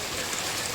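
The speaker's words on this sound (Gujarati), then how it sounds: "ખતરનાક પાણી ચાલી રહ્યું છે અત્યારે. અને ઉપરથી આકાશમાંથી વરસાદ પણ ખૂબ જ પડી રહ્યો છે." Floodwater rushes through the village of Malu during heavy rain, a dense, loud, continuous roar of flowing water with no voices.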